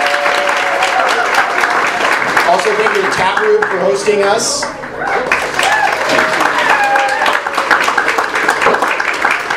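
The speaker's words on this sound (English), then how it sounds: "Can we get some applause?" Crowd at a science pub evening in a taproom applauding volunteers, dense clapping that runs on under someone speaking into a microphone, with a short lull midway before it picks up again.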